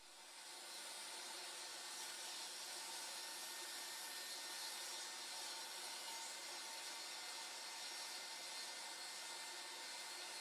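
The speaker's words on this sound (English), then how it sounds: "after cutting the bevel on one side, it's reversed in the fixture, and the same bevel is cut on the other side" Steady, continuous wood cutting from a power tool beveling drawer pull stock held in a fixture, a smooth whirring rasp that holds level for about ten seconds with no talking.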